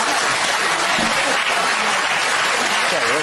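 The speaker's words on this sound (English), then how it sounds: "Well, she got her applause, but not the applause she was hoping for." Audience applause fills the whole short stretch, a dense, steady wash of clapping that stays loud and even throughout, with a few voices faintly mixed in.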